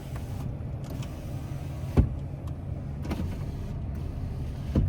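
Front power windows on a 2017 Ram 2500 Mega Cab 4x4 diesel truck run auto down and auto up, a faint steady motor whir with soft clicks as the glass stops, recorded close inside the cab.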